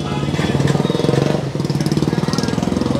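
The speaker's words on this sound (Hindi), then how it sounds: "ये आपकी बाइक स्टार्ट हो गई है," A modified Bajaj Pulsar N160 motorcycle engine catches and settles into a fast, even idle, its exhaust chugging rhythmically up close, with a voice briefly audible at the start.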